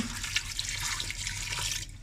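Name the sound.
beef stock with hot water poured into pressure cooker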